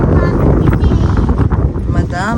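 Strong wind roars against the microphone throughout while people talk loudly over it.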